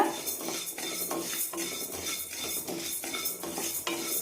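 Horse gram being dry roasted in a kadai over medium heat, the hard grains rattling and scraping rhythmically against the metal pan as they are stirred, close and steady, with no voices.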